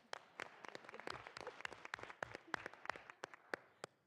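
Sparse, fairly quiet clapping from a small audience for a performer, a scattering of distinct individual claps with little crowd noise.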